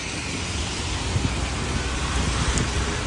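Steady, dense rain pours across a city market area near a bridge, a continuous broadband hiss without breaks or voices, moderately loud throughout.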